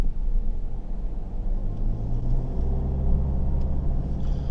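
A 2019 Mitsubishi Triton L200 4x4 with the 2.4 turbo engine, heard from inside while driving as a steady low rumble and drone with a slight rise in pitch, no talking.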